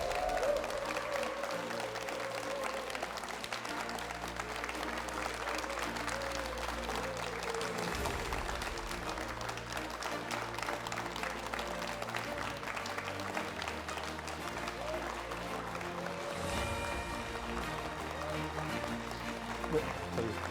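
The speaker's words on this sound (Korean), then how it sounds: "오늘의 얘기 주인공을 여러분의 큰 박수로 모시도록 하겠습니다." Applause from a live studio audience greets the district mayor of Gwangsan-gu, Gwangju, at a televised town-hall event, with steady clapping and crowd noise running the full length under an announcer's voice and background music.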